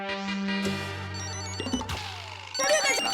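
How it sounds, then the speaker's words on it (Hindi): A mobile phone rings in a home with a melodic, multi-tone ringtone that plays steadily for a few seconds at moderate volume, with no talk over it. "लगता है किसी का मोबाइल बज रहा है।"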